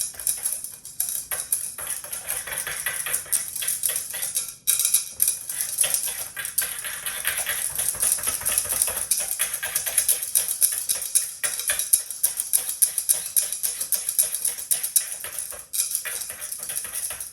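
Whisk scraping and clinking steadily in a pot as arrowroot and cocoa are stirred into a plant-based fudgesicle mixture, a fast continuous metallic rattle close up with brief pauses.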